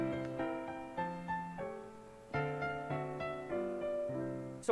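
A guitar plays a chord progression built on secondary dominant chords, with about eight chords picked or strummed in turn. Each one rings clearly and decays before the next, with no talking.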